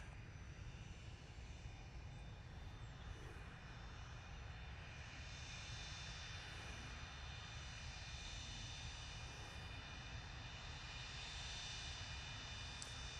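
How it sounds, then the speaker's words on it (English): Cessna Citation business jet departing Manchester Airport, its engines producing a continuous, fairly distant roar with a faint high whine on top, steady for the whole stretch. "It's a little Cessna Citation, and it is going off to Malaga."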